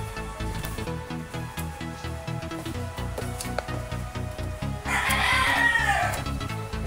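A rooster crows loudly near the end, over a busy rhythmic music track playing throughout.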